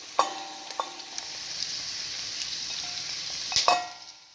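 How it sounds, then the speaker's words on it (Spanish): Sliced mushrooms sizzle with onion in a hot pan: a steady, close frying hiss broken by a few clicks and scrapes as the mix is stirred, with no talk. "Una vez que veamos la cebolla como transparente, agregamos los champiñones rebanados"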